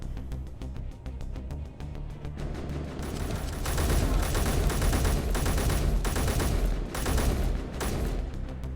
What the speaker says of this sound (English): Oh my god, how are they shooting at me?